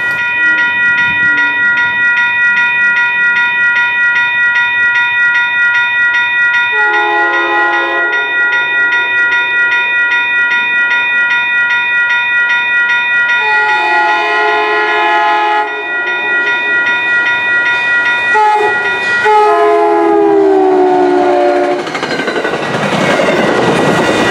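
An MBTA commuter train on the Worcester Line passes with a loud, sustained multi-tone horn and steady wheel and engine rumble, the horn sounding in long overlapping blasts that shift in pitch as it goes by.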